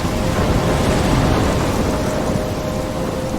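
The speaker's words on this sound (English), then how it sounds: "I'm trapped in a storm." Thunderstorm in the Life Is Strange video game: steady heavy rain with a low rolling thunder rumble and wind noise, loud and continuous throughout.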